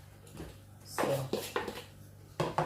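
A wooden spoon mixes sugar in a bowl, giving a few soft scrapes and light knocks in quiet, irregular strokes, faint and close.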